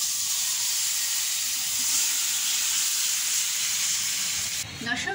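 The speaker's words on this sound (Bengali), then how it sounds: "এই যে আমি মাংসটা রান্না করতে বসিয়ে দিলাম" Marinated beef frying in a pot for beef biryani, giving a steady, loud sizzle and hiss that holds evenly throughout, with a brief shift in texture near the end.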